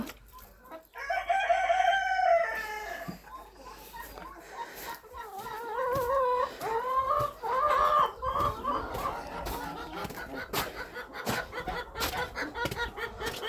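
A rooster crows repeatedly among a backyard flock of chickens, geese and turkeys, its calls loud and near with clucking around it and no talk.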